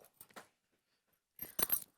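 A bunch of keys jangles in brief bursts indoors: a few quick rattles, a pause of near silence, then a louder cluster of metallic jingling and a final clink.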